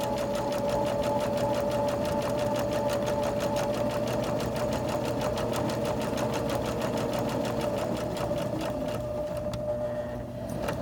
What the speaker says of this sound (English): I'm lining it up on the 5/8 of an inch mark, and I'm just watching that as I'm sewing